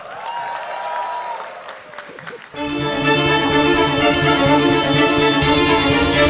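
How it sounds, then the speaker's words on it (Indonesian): A stand-up comedy audience applauds, with some cheering, first as a rising crowd murmur and then as loud, sustained clapping at close range. "Tepuk tangan."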